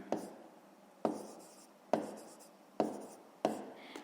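Pen strokes on paper while a fifth-grade math solution for a pool's volume is written out: five distinct scratchy bursts, each starting sharply and trailing off, close and fairly quiet with no talking.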